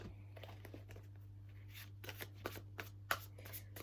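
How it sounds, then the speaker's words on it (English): Tarot decks are riffled and shuffled several times, quiet crisp flutters and snaps in short bursts, close up with no talking. "let me just like shuffle each deck"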